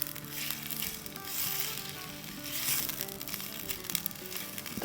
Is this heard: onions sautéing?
yes